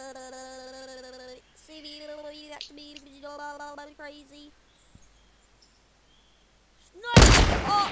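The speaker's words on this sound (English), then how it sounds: "all I hear is this sniper shot go off" A sniper rifle shot in a video game cracks out loud and sudden near the end, following several seconds of quieter tonal game sounds and a brief lull.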